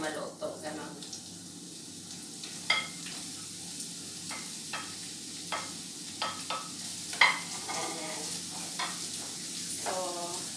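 Vegetables for hakka noodles sauté in a hot pan, with a steady sizzle and frequent clacks and scrapes of stirring. A voice is briefly heard near the end.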